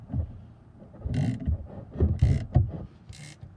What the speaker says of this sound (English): And then you will stick your ratchet on. We will try to get it off here and see if it brings it off.